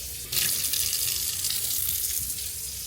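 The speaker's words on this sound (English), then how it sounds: "Now I'm going to add 1 1/3 cup of water." Water poured from a cup into flour for sourdough bread dough, a steady close trickling and splashing stream running for nearly three seconds with no talk.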